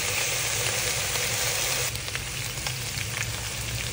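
Pork sizzles loudly and steadily as its fat renders in a covered pan, a dense, continuous hiss with faint crackles, close up and without talk.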